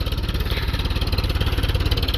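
A 1947 Case VA tractor engine runs steadily up close, a rapid, even chugging pulse with loud low-end thump and no speech over it.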